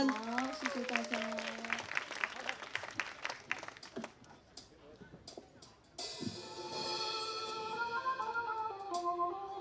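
An audience at a live outdoor concert in Tiehua Village claps in quick, irregular bursts under a speaking voice, then quiets as music begins.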